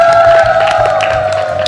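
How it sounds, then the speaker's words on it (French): An audience of children on a television show claps and cheers in a loud, busy burst, over a steady sustained tone that runs throughout the clip. "Applaudissez pour vous, les amis."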